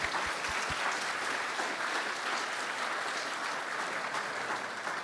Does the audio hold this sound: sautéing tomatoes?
no